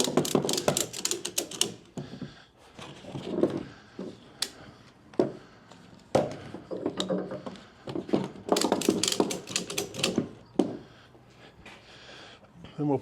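Ratchet straps clicked tight on a Neo-Dyne motorcycle loader holding a Harley Davidson cruiser in a truck bed, rapid bursts of ratcheting clicks close by, coming in uneven runs with pauses and handling noise.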